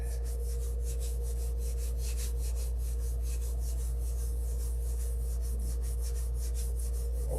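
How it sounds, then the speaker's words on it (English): Steady, rhythmic scraping strokes of hand sanding with very fine-grit sandpaper, repeating evenly over a low constant hum, with no talking. "So we're sanding it still."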